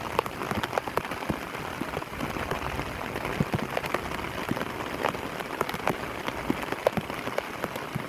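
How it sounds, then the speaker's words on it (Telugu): Steady rain patters densely on surfaces outdoors, a continuous even hiss broken by countless small drop ticks, with no voices. "ఫ్రెండ్స్, వర్షం పడుతుంది మళ్ళా."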